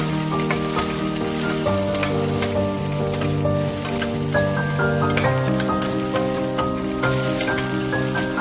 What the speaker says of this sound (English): Add green chilies and give it a stir.